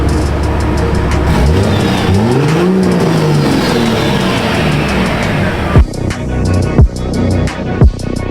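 Diesel truck with a factory AS69RC-to-G56 manual swap roars through hard acceleration, engine pitch sweeping up and down through shifts before several sharp thumps close the loud, close run.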